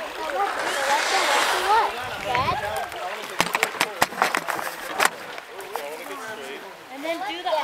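Canoe paddles stroke and splash in the water on the Russian River in irregular dips and knocks, heard close alongside running water while people talk over them.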